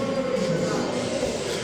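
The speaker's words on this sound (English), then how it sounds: "We're going to board our Ghostbusting train." Ghostbusters-themed ride train at a theme park rumbles steadily with a droning hum, close and continuous, with faint crowd voices mixed in.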